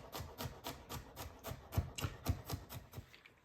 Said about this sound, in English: Just quick chop.